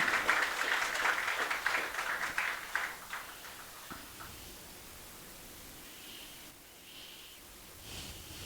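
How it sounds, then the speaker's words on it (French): Applause from the audience at a regional KIX LAC welcome session, with clapping loudest at the start and fading away after about three seconds into quiet room noise. "En applaudissant."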